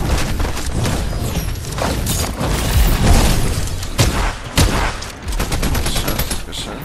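Loud, rapid video game gunshots in sharp bursts and booms, crowded together over several seconds, with players talking over the firing.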